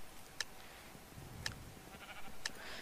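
Sheep in Minecraft on the Mineplex server, giving three short, faint bleats spaced about a second apart over a low background hum.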